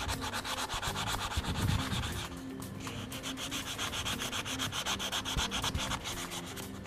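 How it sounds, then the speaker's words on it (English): Rust scale being scrubbed off a brake disc rotor: a close, continuous rhythmic abrasive scraping with fast back-and-forth strokes, steady and dense throughout, with no voices. "we just basically work our way around and remove as much of the rust scale as we can"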